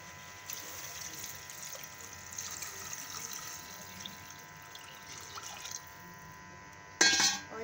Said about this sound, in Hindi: अब हम इसमें डालेंगे थोड़ा सा पानी।